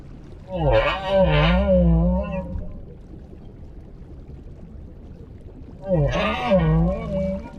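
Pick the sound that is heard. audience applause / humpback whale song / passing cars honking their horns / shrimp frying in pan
humpback whale song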